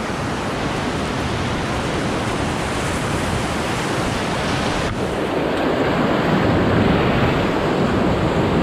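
River rapids on the Ocoee River rush loudly and steadily, a dense broadband roar of whitewater heard close during a rafting trip, with no speech over it.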